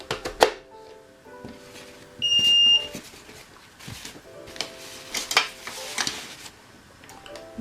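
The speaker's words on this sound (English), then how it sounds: "That's just beeped again to say that it's ready." A steam gel remover system gives a single clear, high electronic beep to signal it is ready. The beep sounds among scattered light clinks and clatters of handling, with quiet background noise.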